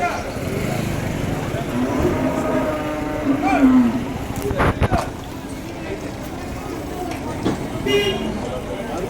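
Cattle at the Vaniyambadi cattle market in Tirupattur district, with a low moo rising under busy crowd chatter and a nearby motorbike engine, close and fairly loud.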